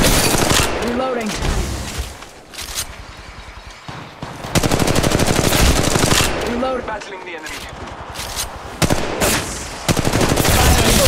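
Rapid machine gun bursts crackle in a firefight in the Apex Legends Mobile video game. Loud, repeated volleys are broken by short pauses, with other game sounds mixed in.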